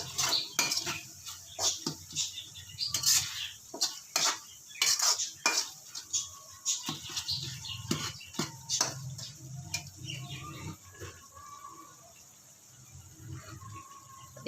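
Ground coriander and black pepper are stirred into a pan for sour eggplant curry with a rapid run of metal spoon clinks and scrapes against the pan, close and rhythmic, easing off near the end; no speech.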